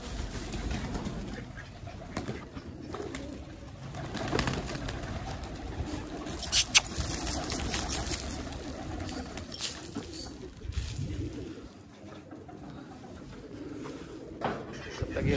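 Pigeons cooing steadily inside a loft while they are fed grain, with an occasional brief wing flutter and a constant low background rumble.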